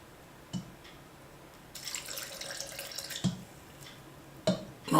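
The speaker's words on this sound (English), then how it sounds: "And what I'm going to do is just add a little bit of the brine." Fermented pepper brine is poured into a batch of hot sauce, giving a soft, steady trickle of liquid over a couple of seconds, with a few brief clinks at the start and end of the pour.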